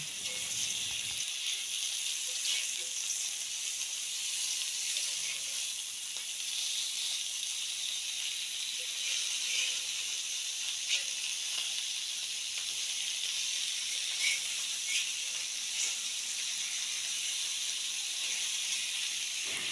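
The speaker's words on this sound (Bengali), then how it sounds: "আমি হালকা করে মাছগুলো ভেজে নিচ্ছি" Pieces of fish fry lightly in a pan for a home-cooked Bengali curry, with an unbroken, even sizzling hiss and a few faint pops, running steadily throughout.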